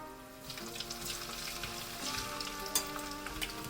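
A potato dropped into hot oil for frying fries in a homemade burger meal, giving a steady close sizzle and crackle with small pops throughout, alone without talk.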